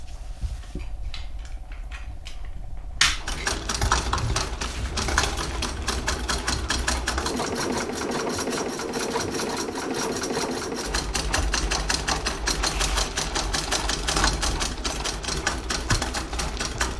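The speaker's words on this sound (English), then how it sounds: "the needle of your sewing machine can go right over the staples" After a brief quieter start, a sewing machine stitches hot tent fabric for a teepee-style tent, its rapid, even mechanical chatter running steadily and close by.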